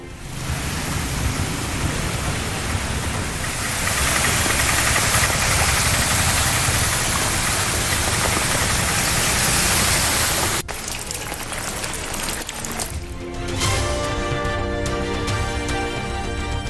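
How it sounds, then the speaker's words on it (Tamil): Heavy, continuous rain pours down in Thoothukudi, Tamil Nadu, a dense steady roar filling the whole stretch, with a sharp break near the end as the sound shifts into a tonal hum. "தொடர் கனமழையால் தூத்துக்குடி நகரின் பல்வேறு பகுதிகளிலும் தேங்கிய வெள்ளம்."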